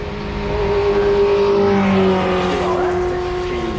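A 1958 BRM Type 25 racing car with a 2.5 litre four-cylinder engine roars past at a motor racing event, loud and close, its pitch shifting as it passes, with a commentator talking over it.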